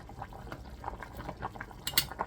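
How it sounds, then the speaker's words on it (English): Broccoli and Stilton soup bubbles in a pot with soft, irregular pops and gurgles, fairly faint and close, plus a brief brighter clink near the end. "As your soup bubbles away, make sure to check your vegetables."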